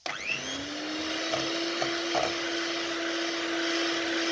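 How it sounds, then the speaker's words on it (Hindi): An egg being beaten into tea cake batter with an electric mixer, a steady close motor whine that starts abruptly and runs continuously, with a few faint knocks against the bowl. "अब इसके अंदर एक अदद अंडा शामिल करें और अच्छे तरीके से बीट कर लें।"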